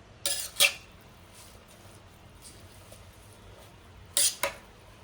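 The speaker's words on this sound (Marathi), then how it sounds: "सगळं व्यवस्थित मिक्स करून घ्यायचं" A spoon scrapes and clinks against a pot of colocasia leaf curry being mixed with salt in two short bursts, separated by quiet stretches of faint background noise.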